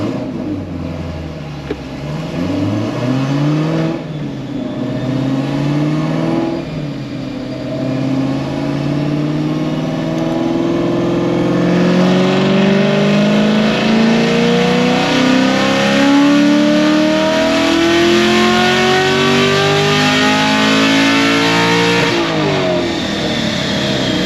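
A Chevrolet Corvette C7 Z06 with an RPM Stage 4 build roars through a full dyno pull, its engine note climbing steadily in pitch and staying loud and close for the whole run, with no voices over it.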